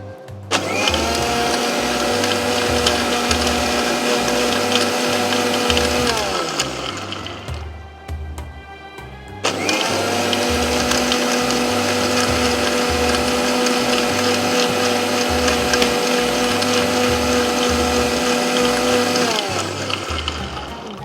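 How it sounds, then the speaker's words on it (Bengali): A kitchen blender runs at low speed through a carrot detox drink, a steady loud motor whine with harmonic tones that stops briefly midway, then starts up again and runs on, with no talking. "এই জন্য আমি একটু আস্তে আস্তে ধীরে ধীরে জিনিসটা ব্লেন্ড করব"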